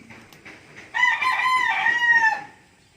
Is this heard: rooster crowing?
yes